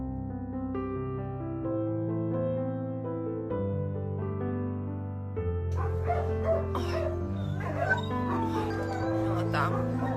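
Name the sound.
puppy whimpering and crying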